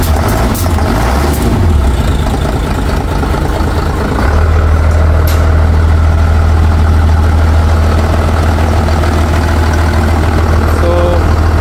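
A Mitsubishi Fuso Fighter truck with a 6M60 engine, throwing fault codes, idles with a loud, steady low rumble that settles after a brief rough start, running alone without talking.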